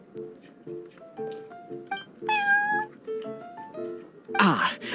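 A cat meows in the Cat's Tail in Genshin Impact: a short run of clear, high, tonal mews in quick succession, some rising, followed by a louder burst at the end.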